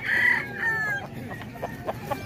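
A white chocolate Peruvian rooster crows nearby, a short, bright call followed by a few fainter clucks over low background noise.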